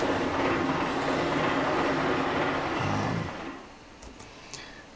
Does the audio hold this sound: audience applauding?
no